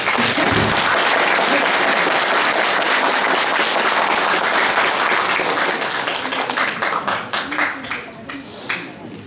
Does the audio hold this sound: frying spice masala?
no